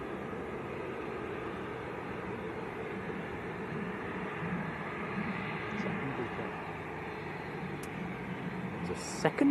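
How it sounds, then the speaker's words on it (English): A business jet taxis out for departure at Manchester Airport, its engine a low, steady, distant rumble. A person talks over it throughout. "There's a second bizjet coming out for departure as well."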